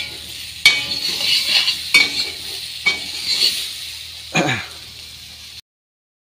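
Crab frying in a pan, a constant hissing sizzle broken by several sharp scrapes and clanks of a spoon stirring, close and fairly loud, then dropping to silence at the end.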